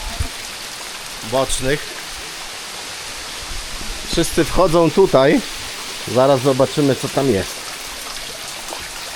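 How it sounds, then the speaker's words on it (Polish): Water drips and patters from the rocks beside the Rabaçal waterfalls in Madeira. It is a dense, continuous hiss like rainfall, heard throughout, with someone speaking over it in short bursts. "Można się tu trochę ochłodzić, bo tutaj kapie z tych skał"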